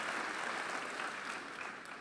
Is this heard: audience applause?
yes